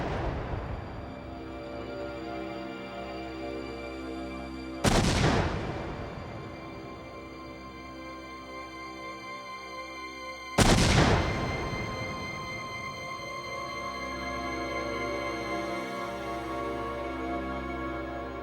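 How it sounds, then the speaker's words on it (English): Test explosion of a pickup truck packed with ANFO and TNT in the California desert, heard as two sharp, loud blasts several seconds apart, each followed by a long rumbling decay over a sustained tonal background. "the LAPD performed a test explosion in the California desert."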